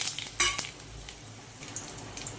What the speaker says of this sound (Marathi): लसूण लाल कलर झालेला आहे यामध्ये कढीपत्ता ऍड करू